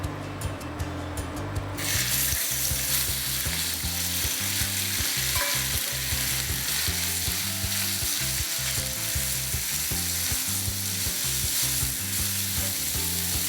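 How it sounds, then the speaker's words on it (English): Pork hits hot oil for stir-fried udon with pork, opening with a sharp spray then settling into a loud, steady sizzle broken by the regular scrape and clatter of stirring. "When the oil is hot, put in the pork."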